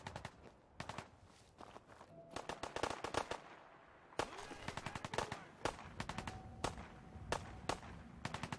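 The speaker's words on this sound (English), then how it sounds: "Shoot that raider in the face." Gunfire while shooting a raider in Fallout 4, a run of sharp, rapid shots in irregular bursts, some clustered like automatic fire, over a low game background.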